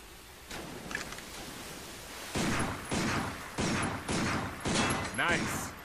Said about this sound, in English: Take out your handgun and try shooting that sign.